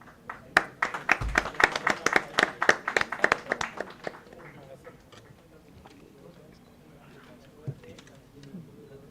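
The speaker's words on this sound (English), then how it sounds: "Please give a big round of applause." An audience at a startup meet claps in distinct, fairly close hand claps that build briefly and then fade out into quiet room noise with a few stray claps.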